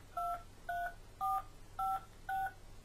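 Phone keypad tones dialed to enter a voicemail PIN: five short, evenly spaced dual-tone beeps at moderate volume over a faint background hum.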